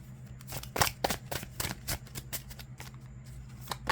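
Rapid papery riffling of a deck of tarot cards being shuffled, a string of quick soft bursts close by with a low steady hum underneath.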